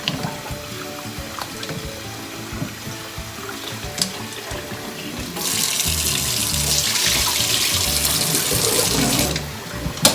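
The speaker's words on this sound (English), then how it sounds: "So you want to rinse them until you get a clear water," Running tap water pours steadily over rice noodles in a strainer, a continuous hiss and splash that grows louder and fuller midway, then eases near the end.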